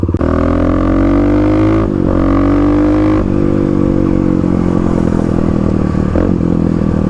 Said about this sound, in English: see how the KLX does on some light off-road work